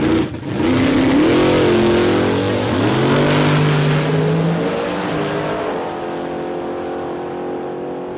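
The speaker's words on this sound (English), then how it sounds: "I just want to listen to the engines do all the talking here." Nitro drag racing cars blasting down the strip at Warwick Dragway in Australia, a loud, close engine roar with rising revs and pitch sweeps that fades as the cars pull away.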